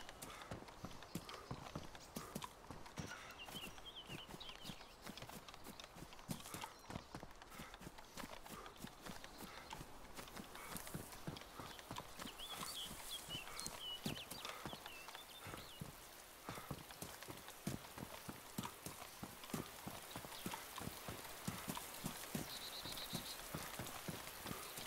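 Footsteps of a character in the DayZ Standalone video game, a steady, rapid run of crunching steps at close range, continuing without pause over a constant background hiss.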